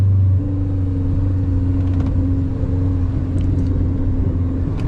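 A 2013 Subaru WRX engine held at revs during a launch control start, a steady loud rumbling drone with a sustained mid-pitched tone and no speech.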